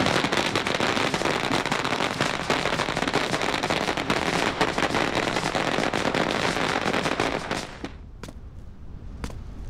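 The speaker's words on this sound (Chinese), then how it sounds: "放鞭炮" A long string of firecrackers set off to greet arrivals, a loud dense crackle of rapid pops running continuously for about eight seconds, then stopping with a few scattered final bangs.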